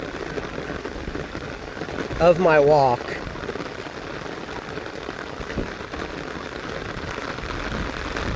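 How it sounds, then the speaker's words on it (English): Heavy rain pours steadily during an outdoor walk, a dense, constant hiss that fills the whole stretch, with someone speaking briefly partway through. "this rain that's coming down right now, it's going to come down for a while."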